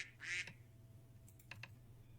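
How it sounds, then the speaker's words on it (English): Several short quacks from a duck in Minecraft, a brief bright call followed by a few quick fainter ones, heard alone over a low background hum. "Quack, quack, quack."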